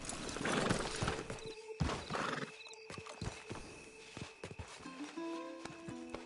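A horse in the Western game Red Dead Redemption 2 whinnies loudly while its hooves clip-clop unevenly on the ground, followed by scattered softer hoof thuds and quieter stretches, with no speech.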